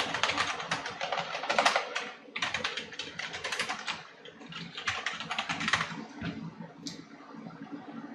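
Rapid typing on a computer keyboard as an email ID is entered: close, crisp key clatter in several dense bursts separated by short pauses, with no speech.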